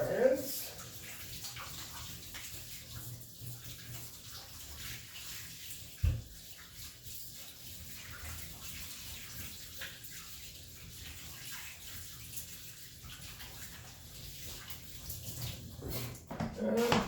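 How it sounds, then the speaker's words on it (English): Running tap water while hands are washed at a kitchen sink during bread making, a steady low wash of flow lasting throughout with a few brief clunks and splashes, fairly close and moderately quiet. "Wash my hands."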